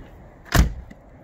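A single solid, muffled thud as a door shuts on a 2006 Jaguar XJ6 X350 3.0 Sovereign Automatic saloon, heard close up, short and alone in near silence.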